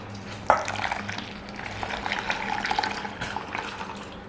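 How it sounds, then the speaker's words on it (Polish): Boiling water is poured over raspberry jelly dessert mix, a steady close splashing and gurgling stream that starts with a sharp splash and runs on for several seconds with no voices. "Mamy nasze galaretki i dodajemy wrzącej wody."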